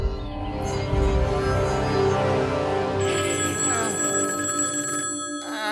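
A telephone rings insistently in repeated bright electronic trills. The ringing is close and steady at first, then turns into a higher, thinner tone partway through with no voices over it.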